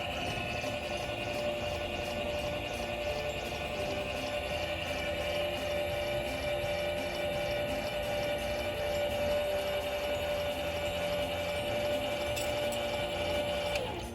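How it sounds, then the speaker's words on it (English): An electric camper tongue jack retracts, lowering the trailer onto the hitch ball. Its motor gives a steady, loud, continuous whine and hum that runs unbroken throughout. "Then we'll go to our electric jack and hit retract, and we'll lower the camper all the way down onto the ball."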